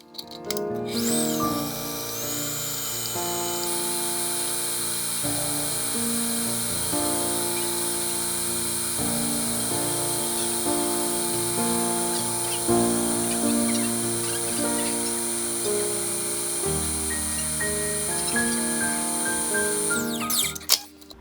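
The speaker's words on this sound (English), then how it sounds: "we're gonna go ahead and whisk it again until it becomes white and frothy" Eggs and sugar are whisked until white and frothy for Japanese soufflé pancakes, giving a continuous whirring drone that holds steady for about twenty seconds before cutting off.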